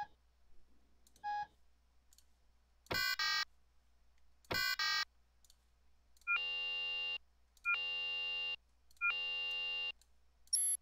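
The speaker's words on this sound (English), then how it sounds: "So this is going to be my fire alarm." A fire alarm in the game Stormworks sounds in bursts: a few sharp, bright beeps first, then three long buzzing electronic tones repeating at a steady interval against near silence.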